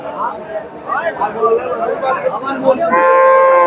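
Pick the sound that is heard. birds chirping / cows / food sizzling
cows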